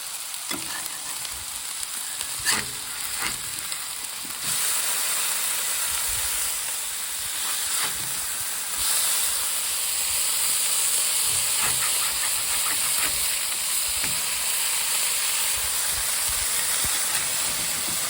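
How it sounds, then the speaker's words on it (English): Burgers sizzle on a Blackstone 28-inch griddle outdoors in Minnesota, a loud, steady frying hiss that runs throughout with occasional scraping clicks from a spatula. "We are cooking burgers."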